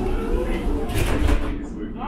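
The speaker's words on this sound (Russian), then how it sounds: "Смотрите, видите? Двери закрываются." The doors of a Moscow route 9 tram close in a swelling hiss and thud over steady tram rumble, while a voice speaks close by.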